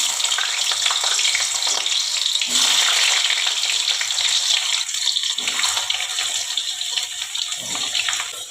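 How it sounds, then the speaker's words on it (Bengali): Potatoes fry in hot oil in a kadai with whole cumin seeds, a dense close sizzle and crackle with some stirring scrapes, continuous and fairly loud. "দেখুন, আমি তেল কড়াতে গরম করে দিয়েছি, একটু গোটা জিরে দিয়ে দিলাম প্রথমে। এবারে আমি আলুগুলো দিয়ে দিলাম।"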